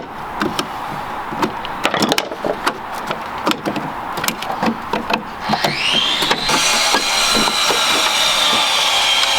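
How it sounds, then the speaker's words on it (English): Plastic trim around the tail light of a VW Caddy van being pried off, a series of sharp clicks and snapping pops in irregular bursts, followed by a steadier whirring hum. "you need to remove this plastic trim, which Luke's doing right now."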